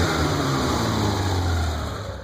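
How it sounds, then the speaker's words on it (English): A 1986 BMW 325e with a six-cylinder engine and five-speed revs steadily close up, a dense continuous engine roar holding level before easing slightly at the end. "Here, I'll rev it up a little bit"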